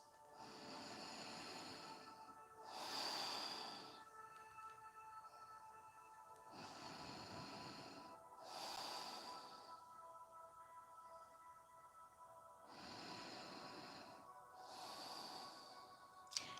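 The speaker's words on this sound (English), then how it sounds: "And breathing through our nose." Slow, steady nasal breaths during a yoga session, alternating inhales and exhales in a calm rhythm of about three full cycles, close and soft over a low background hum.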